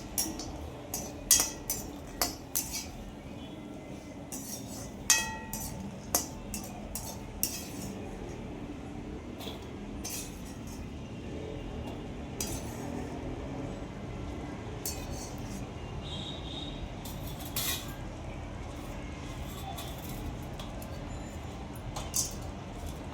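Black cardamom frying in a pan for a dark spice blend, with repeated light metallic clinks and scrapes of a spoon over a low, steady background, close and fairly quiet.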